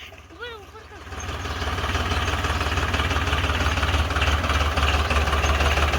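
A tractor engine idles with a loud, steady rumbling throb that builds after the first second and then holds constant. A voice speaks briefly at the start.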